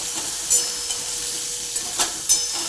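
Bombay duck fish stir-fried with salt in a pan gives a faint, steady sizzle, with a few soft scraping stirs heard alone.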